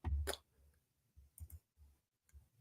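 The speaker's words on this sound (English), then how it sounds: "I was clicking on too many things" A computer mouse gives a few faint, sparse clicks in a quiet room, irregularly spaced with short gaps between them, with no speech.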